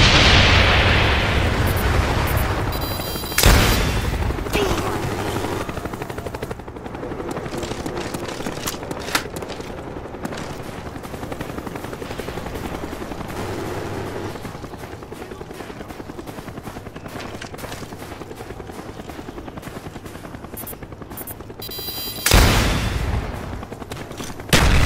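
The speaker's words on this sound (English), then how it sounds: "Enemy napalm strike incoming." Napalm strike explosions in Call of Duty Black Ops multiplayer roar in loud booming blasts at the start and again near the end, with a long rumbling, crackling fire-and-debris wash and scattered gunfire between.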